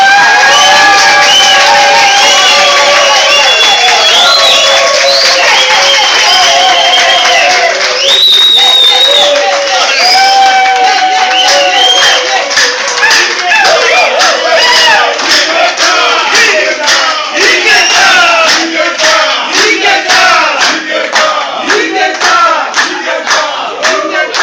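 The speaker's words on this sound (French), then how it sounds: "pour qui je demande des acclamations en tout cas" A large crowd at a reception honouring Saint-Josse's mayor in Brussels erupts in loud, sustained cheering, whooping and shouting with scattered clapping, dense and continuous throughout.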